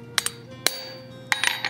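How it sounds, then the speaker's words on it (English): Sharp metallic hammer taps on a center punch marking metal pieces for tongs, a few distinct strikes in two groups, close and ringing against a low steady hum. "I will do a center punch"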